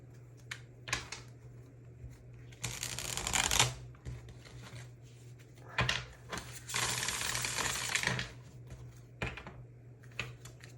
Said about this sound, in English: Let me draw some tarot cards to get some further information for each